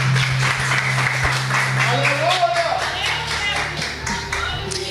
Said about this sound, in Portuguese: E as palmas louvam ao Senhor Jesus.